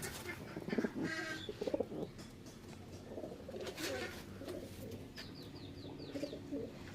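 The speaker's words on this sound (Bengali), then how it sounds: "এই দেখুন পায়রা দেখুন, এই দেখুন দেখতে পাচ্ছেন।" Pigeons in a loft, faint soft cooing and rustling wings heard close, with occasional quiet sounds of people moving nearby.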